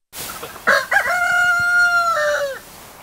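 A rooster crows among chickens in a backyard coop in Madera, California, one loud, close cock-a-doodle-doo with a stuttering start and a long sustained tone that trails off, over faint background noise.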